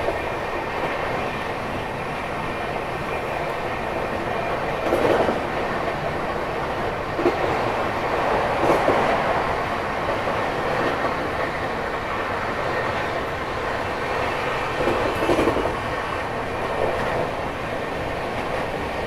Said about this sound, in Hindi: ट्रेन 1:30 की रफ्तार अब पकड़ चुकी है, बहुत ही तेज चली अपनी राजधानी एक्सप्रेस।